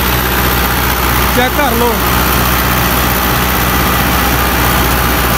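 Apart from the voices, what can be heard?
Fiat 640 tractor engine running with 60-cutter rotavator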